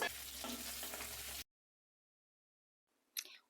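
Potatoes fry in mustard oil with a dense, steady sizzle for over a second, then the sound cuts to silence before one brief clatter.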